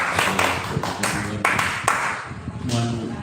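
An audience at a village training event applauds in scattered bursts of clapping, with talk mixed in underneath.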